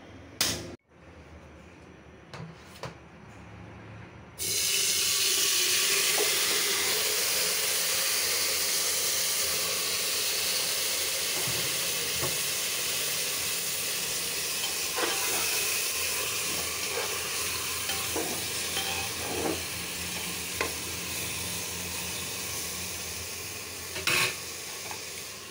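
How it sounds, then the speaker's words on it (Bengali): Small shrimp hit hot oil and burst into a loud, continuous sizzling hiss after a few quiet seconds, with occasional clinks and scrapes of stirring in the pan, close and without talk. "এটা হলো কুচু চিংড়ি, ছোট চিংড়ি, তেল দিয়ে ভাজছি"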